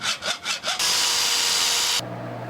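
Back-and-forth hand sawing on metal tabs of a motor plate for a homemade pottery wheel, four quick rasping strokes followed by a sustained grinding cut that stops abruptly, close and alone.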